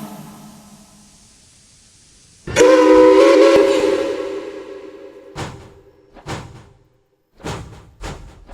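A loud steam whistle blasts over rumbling machinery, followed by several short, sharp chuffs or bursts spaced irregularly.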